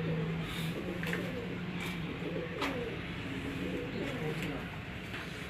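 Home-bred pigeons coo in low, repeating warbles against a steady background hum, with occasional faint voices.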